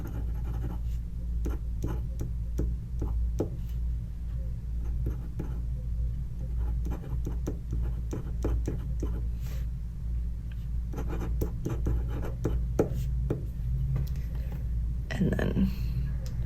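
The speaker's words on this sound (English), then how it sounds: "I'll just write it down here." A fountain pen writing on paper while swatching inks, soft scratchy strokes in short bursts close by over a low steady background hum.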